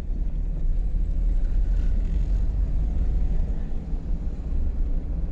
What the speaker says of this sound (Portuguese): Aqui se apertar e segurar o acelerador, meu amigo, ele urra. Tem motor, rapaz.